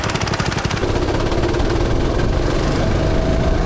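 A go-kart engine roars loudly and close, sputtering with rapid uneven pulses at first, then settling into a rough, dense drone as it chokes off.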